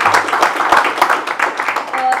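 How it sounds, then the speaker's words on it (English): Audience applause for chief guest Subhash Ghai at a book launch, a steady wash of clapping with voices murmuring beneath it. "Let's have a round of applause for Mr."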